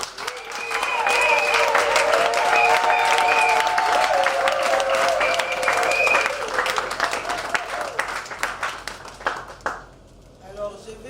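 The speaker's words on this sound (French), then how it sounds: "nous saluons ce dévouement avec des applaudissements" A crowd at an award ceremony for a Central African hospital prize applauds in a dense, sustained wash for about nine seconds, with voices and a tonal cheering line over it, before it fades to quieter scattered sounds.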